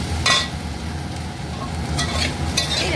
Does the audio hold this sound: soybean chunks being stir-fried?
yes